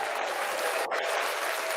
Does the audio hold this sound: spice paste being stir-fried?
no